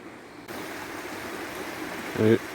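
The Water of Leith river flows beside St Bernard's Well in Edinburgh, a steady broadband rush of running water heard at moderate distance, with a brief louder burst of nearby sound near the end.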